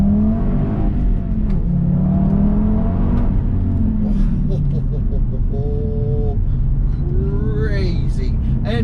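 A five-cylinder Audi Quattro with all-wheel drive accelerates hard in first gear on a winding road, its engine note climbing steadily in pitch, while someone talks over it and the engine recedes under his speech.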